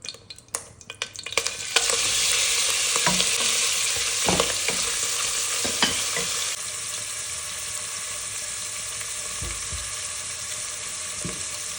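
Beef for Azerbaijani bean soup fries in a pan with a loud, steady close-up sizzle that swells after a few opening clatters, with occasional utensil taps and stirring scrapes over the continuous hiss.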